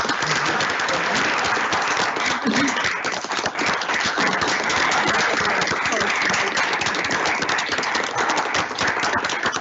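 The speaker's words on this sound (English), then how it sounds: "Let's go ahead and give them a round of applause." A room at a school board meeting breaks into a round of applause, a dense, even clatter of many hands that keeps going throughout with no break.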